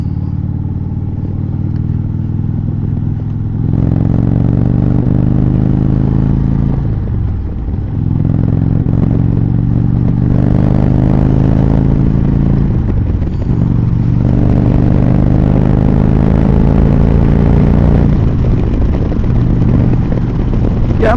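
An Indian Chieftain motorcycle with a Thunderstroke 116 engine, riding and accelerating: a loud, deep engine rising in pitch through each gear, with brief dips at the shifts and wind roar throughout.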